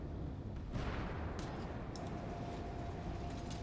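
Tank gunfire in Armored Warfare, a loud main-gun shot early on followed by booming, rumbling battle noise and a second crack, with no talking.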